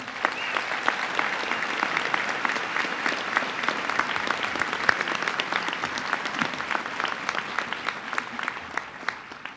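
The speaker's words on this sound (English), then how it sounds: "We need a huge round of applause for Jack Mooney." Loud, sustained applause from a large audience fills a graduation ceremony for FDNY probationary firefighters, with dense, steady clapping continuing throughout.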